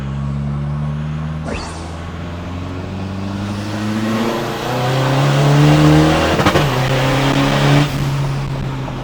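A tuned car, modified by a Thai tuning shop and fitted with a new engine control box, accelerates hard through a single gear. Its engine note climbs steadily in pitch, loud and close, with a brief sharp burst partway through and no talking.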